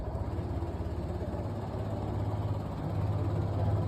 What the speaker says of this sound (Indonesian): oke, nyalakan motornya.